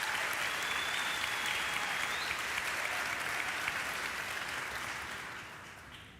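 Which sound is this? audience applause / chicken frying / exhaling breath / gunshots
audience applause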